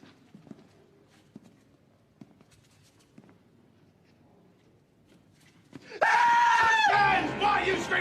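A man screams loudly and raggedly for about two seconds at the close, after quiet scuffling and faint movement noises, in a comic military scene with a sergeant lining up recruits.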